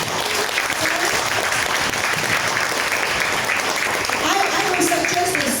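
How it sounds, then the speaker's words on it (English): Big round of audience applause at a direct marketing training seminar, loud and continuous throughout, with voices and cheering mixed into the clapping toward the end. "Can we give Sarah a big round of applause, please?"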